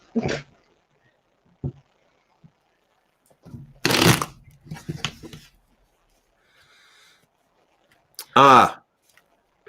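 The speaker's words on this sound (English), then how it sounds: "I'm just going to do a quick shuffle while this goes down" Cards riffle and snap in a few quick bursts, separated by quiet pauses, with brief voices in between.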